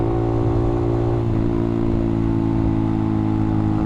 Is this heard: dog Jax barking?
no